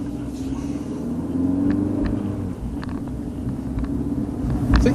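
A car taken for a road test drive after repairs rumbles steadily from inside the cabin, a low continuous engine and road drone with slight swells, no talk.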